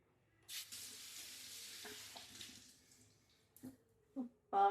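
Hands are rinsed under a running kitchen tap, a faint, soft splash of water lasting a few seconds, then a few light clunks as it stops.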